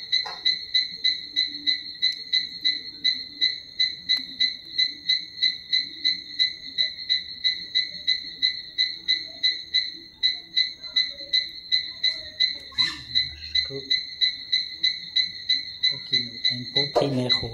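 Repeated rhythmic calls, likely frogs or crickets, pulse steadily and evenly throughout at moderate loudness, with two sustained high tones running underneath and faint rustling and a brief voice near the end.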